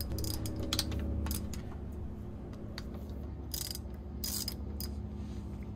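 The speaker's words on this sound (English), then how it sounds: "So I'm just giving them a little turn just to break the tension from the inside outward" A ratchet with a swivel socket turning the carburetor and inner manifold bolts on a Yamaha four-stroke outboard, giving repeated clicking bursts over a low steady background hum, moderately close.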